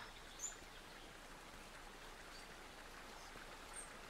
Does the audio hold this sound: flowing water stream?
yes